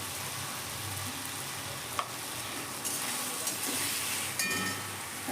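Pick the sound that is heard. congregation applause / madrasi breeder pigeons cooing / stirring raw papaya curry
stirring raw papaya curry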